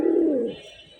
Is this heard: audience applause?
no